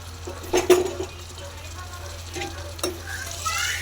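Tomatoes and fresh coriander frying in a pan, a low steady sizzle with a couple of clinks and stirring scrapes, close and moderately quiet.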